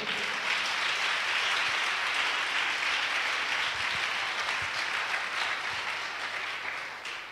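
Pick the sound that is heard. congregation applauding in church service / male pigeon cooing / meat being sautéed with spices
congregation applauding in church service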